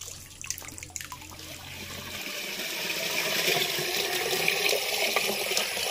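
Water is poured in a steady, rushing stream to wash palm pith flour, swelling louder and fuller after a few seconds with no voices.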